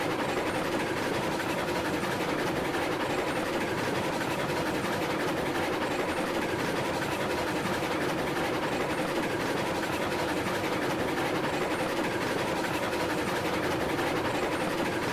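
Train rolling down the tracks in the railway game Railroads Online, a steady, dense rumble with constant wheel-on-rail noise and clatter held at an even level throughout, with no talking.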